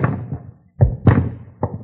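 Guns dropped on the ground as a radio drama sound effect, several close, dull thuds and knocks landing in quick succession, clear and alone.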